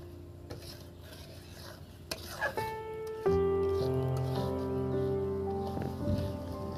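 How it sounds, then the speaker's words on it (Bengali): A mixture for the Bengali sweet murali is stirred continuously by hand in a pot, with soft scraping and rubbing sounds, while tonal sounds ring over the second half. "আর এটা অনবরত হাত দিয়ে নাড়তে হবে"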